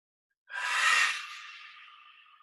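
One deep breath during a qigong exercise, drawn in sharply and close, then fading into a long, softer airy tail, alone with silence before it.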